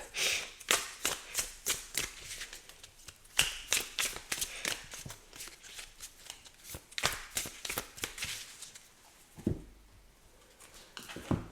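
A deck of cartomancy cards being cut and shuffled, with a rapid run of crisp riffling flicks and slaps close by, a short pause, then a few more card snaps; no speech.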